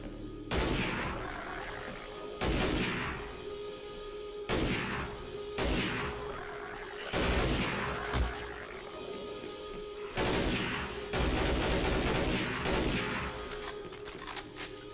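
Heavy gunfire bursts from the Half-Life video game, loud and close, arriving in repeated clusters roughly every two seconds with short pauses between volleys.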